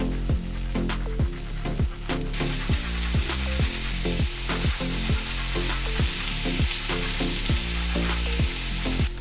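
Spinach and garlic frying in a hot pan while being stirred, a steady loud sizzle throughout with repeated scraping and knocking strokes of the utensil against the pan, no talking.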